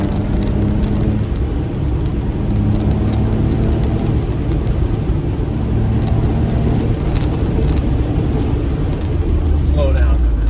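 A Brabus Smart car drives along a road, its engine and tire roar a loud, steady drone throughout with strong wind noise, while a person talks over it.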